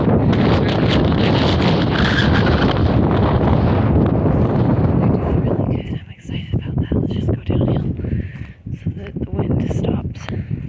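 Strong wind buffets the microphone in a garden in loud, rumbling gusts that ease off partway through, leaving lighter rustling and scattered gusts.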